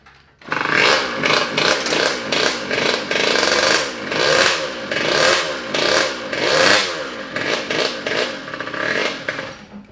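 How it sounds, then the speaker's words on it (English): A Harley-Davidson motorcycle fitted with a swapped two-stroke engine runs loud and close, its raspy buzzing exhaust rising and falling through repeated throttle blips and revs over about ten seconds. "That's a funny sounding Harley."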